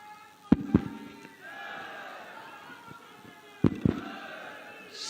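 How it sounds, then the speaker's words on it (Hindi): A large outdoor rally crowd in Fatehpur, Barabanki, applauds and cheers to welcome Chief Minister Yogi Adityanath. The dense, steady crowd noise is broken by loud sharp bangs near the start and again later. "जोरदार तालियों के माध्यम से माननीय का स्वागत करें"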